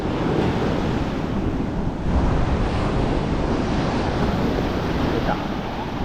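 Ocean surf at Chennai's ECR beach, a loud continuous wash of breaking waves mixed with heavy wind buffeting the microphone, steady and close with only slight surges.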